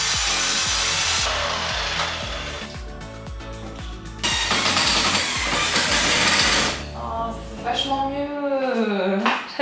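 Cornice molding for kitchen cabinets being cut with a power saw, a steady loud whine with rhythmic rasping strokes through the wood, close up; a brief voice sounds near the end.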